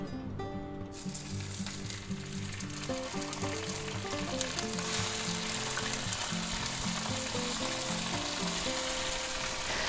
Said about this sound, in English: Let's just go ahead and put our nice slices of bologna right in there, just like this.